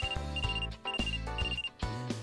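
A mobile phone ringtone repeats in bright, steady bursts with short gaps between them. It plays alone, with no talk, in the Wii game Trauma Center: Second Opinion.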